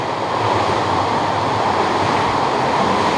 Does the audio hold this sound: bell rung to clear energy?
no